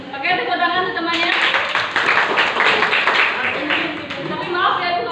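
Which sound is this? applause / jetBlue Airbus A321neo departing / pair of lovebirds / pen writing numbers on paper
applause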